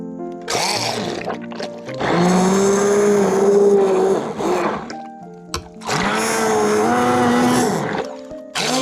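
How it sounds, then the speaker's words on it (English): A kitchen blender whirring through ingredients for a homemade sauce, running in two long steady bursts with a short pause between, loud and close with no talk. "now we're gonna blend them up"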